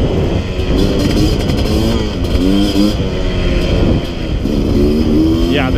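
A dirt bike ridden along a little-used single-track trail, its engine loud and close, revving up and down in repeated bursts, with a voice heard briefly over it.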